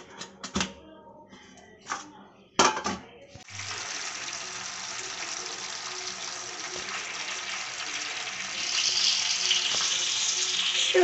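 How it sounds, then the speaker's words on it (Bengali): Fish fry in hot oil in a pan, a few sharp spits and crackles at first, then a continuous loud sizzle that swells slightly toward the end. "এখানে আমার মাছ ভাজা হচ্ছে"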